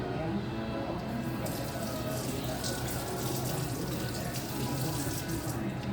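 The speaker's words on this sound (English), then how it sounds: "Putting my spoon back in after I rinse it off" Tap water runs steadily into a kitchen sink as a spoon is rinsed under it, a continuous close splashing stream that fills the whole moment.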